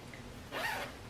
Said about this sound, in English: this is the double zipper. So you can zip from the top here